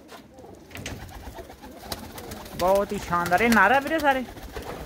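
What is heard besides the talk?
pigeons cooing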